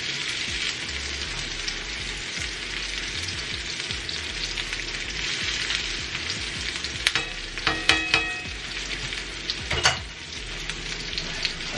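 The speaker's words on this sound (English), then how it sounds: "So I'm going to allow these to cook for 3 minutes on this side" Lamb chops sear in a hot frying pan, a dense, steady sizzle and crackle running throughout, with a few sharper pops and utensil clicks near the end.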